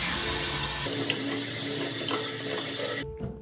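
Cold water runs steadily from a tap into a sink, a close, loud hiss that stops sharply near the end, leaving a quiet room.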